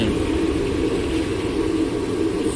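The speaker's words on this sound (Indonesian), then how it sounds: "suara dari gas yang terbakar di kompor itu bergemuruh" A gas burner under a frying stove at a snack stall for fried tofu and fritters gives off a steady, close, broadband roar that holds even throughout without breaks.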